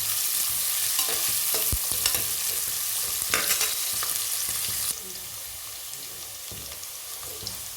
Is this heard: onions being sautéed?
yes